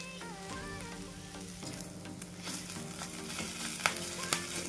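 Paneer bhurji sizzles in a hot pan while a spoon stirs and scrapes it, with soft clinks and a few sharper knocks near the end; close and continuous, with no talking.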